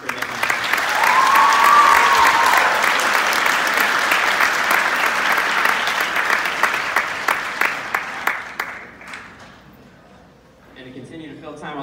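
Concert audience at a high school chamber winds fall concert applauds the percussionists, a loud sustained ovation of dense clapping that tapers off near the end, followed by quieter room sounds and faint talk.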